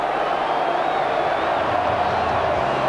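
Steady, dense roar of a rugby league stadium crowd at the 1991 New Zealand versus Australia Test in Brisbane, a loud unbroken wash of many voices with no single speaker standing out.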